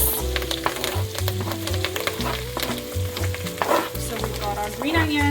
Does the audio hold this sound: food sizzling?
yes